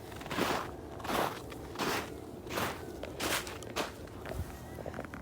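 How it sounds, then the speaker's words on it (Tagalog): Footsteps crunch over snowy ice, a steady walking rhythm of about seven close, crisp crackling steps, fairly quiet with no talking. "Crunchy ice."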